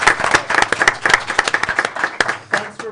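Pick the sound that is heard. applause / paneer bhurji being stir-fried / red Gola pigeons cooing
applause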